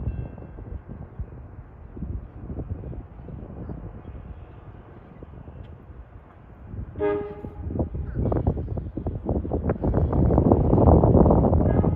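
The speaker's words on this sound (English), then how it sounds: "Here comes Amtrak 2163, Boston to Washington." Amtrak train 2163, running Boston to Washington, approaches Princeton Junction. Wind and a low rumble build, then a short horn blast sounds and the train roars past, loud and close, growing to a rush at the end.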